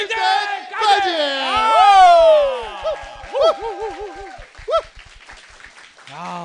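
A studio audience at a Korean talk show whoops and cheers loudly and near, with rising shouts and scattered claps, fading as a voice begins to speak.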